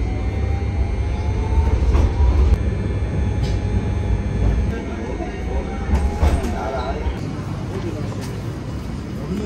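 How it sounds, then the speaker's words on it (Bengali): A tram in central Milan rumbles along its rails, with a low steady roll and occasional metallic clanks and faint squeals, under someone talking throughout. "এই যে আমার পিছনে ট্রামটা দেখতে পাচ্ছেন"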